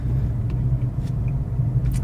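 Engine of a small Zeer car pulling steadily, a continuous low rumble and drone that stays close and fairly loud for the whole stretch, with no voices over it.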